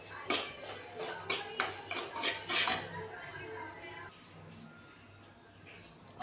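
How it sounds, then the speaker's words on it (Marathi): A spoon scrapes and stirs semolina roasting in ghee in a metal pan in quick repeated strokes, then settles into a softer, steady sizzling rustle. "आज नाश्त्यासाठी बघा मी रवा भाजते"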